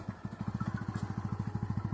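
A nearby motorcycle engine chugs in a fast, even train of low thumping pulses, loud and close, with no voices over it.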